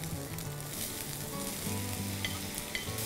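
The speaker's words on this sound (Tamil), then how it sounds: "கொஞ்சம் அந்த பீட்ரூட் வந்து வேகிற வரைக்கும் அதை நல்லா வதக்கிக்கலாம்." Grated beetroot and green chillies sizzle steadily in a hot pan, a close, continuous frying hiss with occasional stirring scrapes and no talking.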